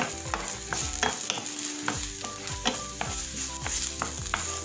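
Onion stir-fries in a pan along with garlic, a close steady sizzle punctuated by frequent scraping strokes of a spatula in an uneven rhythm, with no talking.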